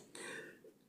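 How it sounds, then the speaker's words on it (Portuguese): A single short, harsh cough from a man in dry weather, close and fairly loud, breaking off into quiet. "Desculpa pela tosse, tá o tempo meio seco, a gente tosse mesmo."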